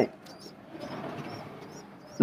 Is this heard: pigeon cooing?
yes